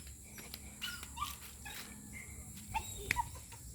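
Dogs near scattered garbage give faint, brief whimpers and whines, a few scattered high cries over a quiet background with a soft insect-like hum.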